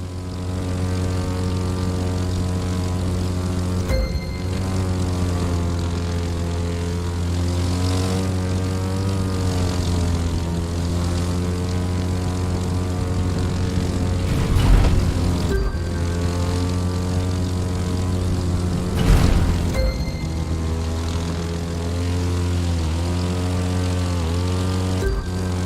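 A propeller airplane in The Crew 2 holds a loud, steady droning engine tone with strong harmonics throughout, the pitch wavering slightly as it flies, with a couple of brief whooshing swells along the way.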